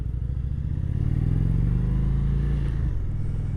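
A 2021 Indian Chieftain Darkhorse motorcycle with a 116 Thunderstroke V-twin rumbles close by as it pulls away, engine note rising steadily under load with a deep continuous throb.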